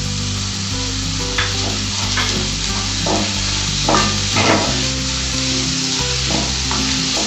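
Chopped onion and capsicum with salt cooking in a pan for street-style pav bhaji, a loud, close, continuous sizzle broken by repeated scraping stirs and a few knocks, with no voices.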